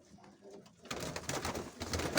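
Crested pigeons coo and flutter close by, a soft murmur that swells into busier, louder cooing and rustling after a quiet start.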